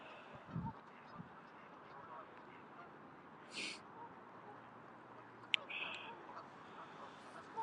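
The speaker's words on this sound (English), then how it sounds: "There's some ducks." Ducks call faintly in the distance on an outdoor nature walk, scattered short honking quacks over a low ambient hum and wind.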